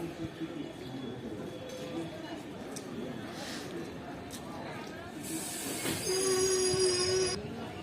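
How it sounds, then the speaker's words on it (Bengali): A ten-coach passenger train with sleeper coaches, pulling away from Sagardighi station, rolls with a low rumble and hiss that build toward the end, where a sustained wheel squeal rings out; faint talk sits beneath. "তো ফাইনালি ট্রেনটা ছেড়ে দিল সাগরদিঘি রেল স্টেশন থেকে।"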